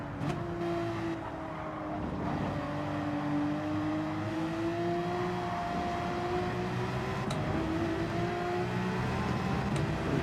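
Porsche race cars from the old and new generations drive the Nürburgring GP in Gran Turismo 7, their engines holding a steady, sustained drone with slowly shifting pitch throughout and no speech.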